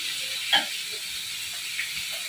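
Sliced onions sizzle in hot oil for a mutton curry, a steady close hiss with a few faint pops and crackles and no voices.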